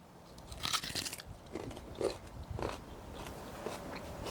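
Someone bites into and chews a raw peeled root vegetable with a potato-like texture, a few sharp close crunches followed by softer wet chewing, no talking.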